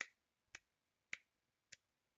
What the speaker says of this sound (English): It's like a golf clap.